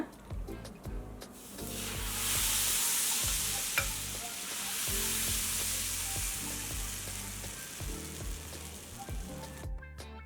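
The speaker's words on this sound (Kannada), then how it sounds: "ಈಗ ಒಂದ್ಸರಿ ದೋಸೆ ಹಾಕ್ಕೊಳ್ಳೋಣ" Dosa batter spread on a hot oiled griddle for instant crispy dosa, sizzling loudly and steadily at close range, with a repeated low rhythmic scraping as the batter is spread.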